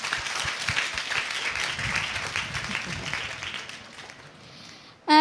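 An audience at a school stage event claps together in a dense burst of applause that slowly thins and fades.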